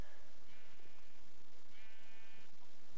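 Sheep bleating in a video game, two drawn-out wavering bleats, clear and moderately loud over a steady background hum, with no talking.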